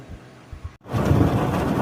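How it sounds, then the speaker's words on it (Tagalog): Heavy rain outdoors at a construction site with gravel and sand, a sudden dense rushing wash that cuts in loud and close after a brief quieter stretch and continues steadily. "inabutan na kami ng malakas na ulan."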